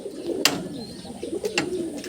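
Pigeons cooing softly in an Andhra pigeon loft, low throaty murmurs running throughout with a couple of sharp clatters or wing flaps standing out briefly.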